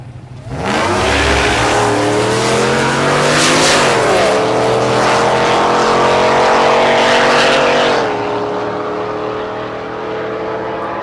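Chevrolet Silverado and Pontiac G8 launching down a drag strip at Thunder Valley in Noble, Oklahoma: loud, close engines rev hard with rising harmonic tones and gear shifts, then fade as they pull away.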